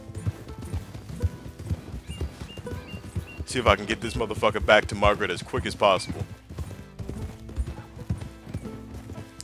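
Donkey hooves clip-clop steadily on the ground in the Red Dead Redemption 2 video game, mixed with game sounds and someone talking over them.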